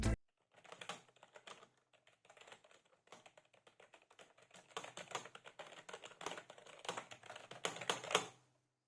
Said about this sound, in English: Here you can check the key sound